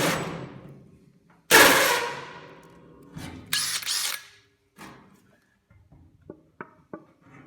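A power drill whines in bursts against 16-gauge sheet steel, a loud initial grind followed by shorter stuttering runs and a few clicks, close by.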